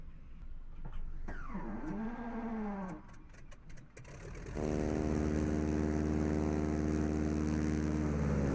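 T-6 Texan propeller engine in Microsoft Flight Simulator, first whining and sweeping through a starter cycle with clicks, then catching into a loud, steady, throbbing radial-engine drone that holds to the end, with no speech.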